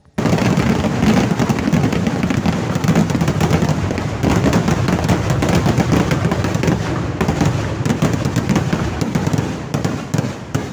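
A loud, dense fireworks barrage at a church festival crackles and booms nonstop. Rapid overlapping bursts and pops merge into a roaring wall of explosions for the full stretch, with no clear voices above it.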